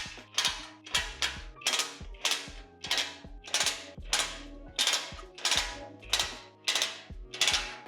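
Bolts being tightened on a JB bike rack during assembly, heard as a steady series of about a dozen sharp ratcheting clicks in quick bursts, close and clear with no talking.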